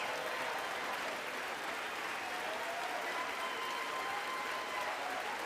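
Steady, dense applause from a crowd runs without pause for several seconds, with a faint murmur of voices mixed in.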